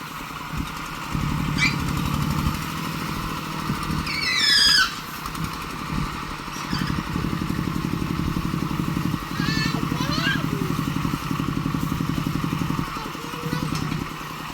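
A farm tractor engine runs steadily nearby with a loud, rumbling drone that throbs and pauses briefly, while high squeals and voices break in over it.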